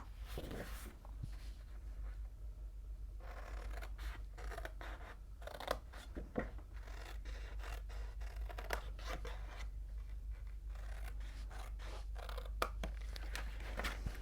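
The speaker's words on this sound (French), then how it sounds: "vous coupez votre papier cartonné exactement de la même manière" Scissors snip through cardstock while a handmade scrapbook gift box is being made, giving repeated crisp cutting strokes and paper rustles up close over a steady low hum, with no talk.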